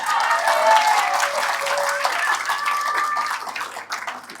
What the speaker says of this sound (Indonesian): yang senang coba tepuk tangan loh